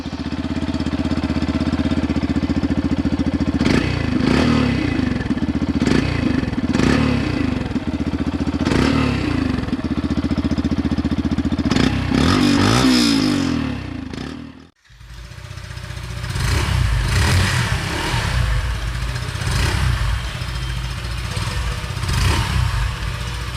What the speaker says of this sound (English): Now let's check out the exhaust note of the 2021 FZS